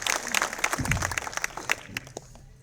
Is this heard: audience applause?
yes